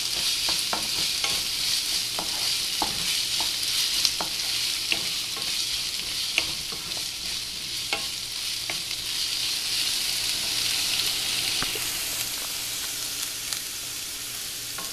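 Onions sauté in a pan with a dense, continuous sizzle, and close spoon scrapes and taps break through the hiss at an irregular pace throughout, with no voices.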